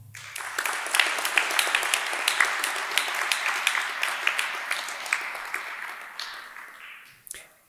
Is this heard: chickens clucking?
no